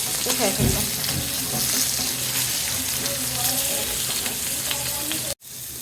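Hilsa fish pieces fry in oil in a pan, a loud, dense, unbroken sizzle with occasional spatters and light scraping, cutting out abruptly near the end.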